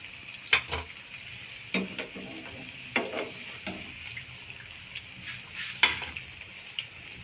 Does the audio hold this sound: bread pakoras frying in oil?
yes